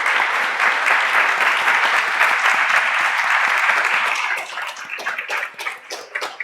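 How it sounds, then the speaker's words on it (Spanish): Audience at a university cultural rights forum applauding the session, loud continuous clapping that thins after a few seconds into scattered individual claps. "Gracias a ustedes, un aplauso."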